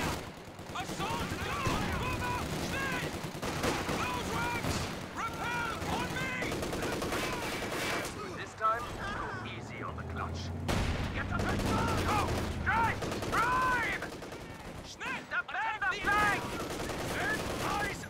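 Gunfire rattles through a Company of Heroes 2 battle, with bursts of machine-gun and rifle fire over dense battlefield noise while soldiers shout commands, and a heavier boom around the middle.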